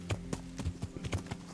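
A horse's hooves clip-clop on uneven terrain in the video game Kingdom Come: Deliverance, a quick, irregular run of sharp thuds, close and moderately loud, without talk.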